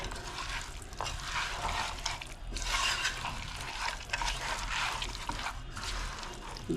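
Tilapia fish curry being stirred together with salt, chilli, turmeric and ginger-garlic paste, a continuous wet, squelching swish that runs steadily throughout at close range with no talk.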